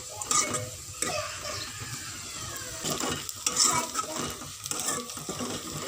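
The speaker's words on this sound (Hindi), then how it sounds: "लहसुन और प्याज को हम अच्छी तरह से फ्राई करेंगे।" Garlic and onion sizzle in hot oil while a utensil scrapes and stirs against the pan in irregular strokes, close and moderately loud.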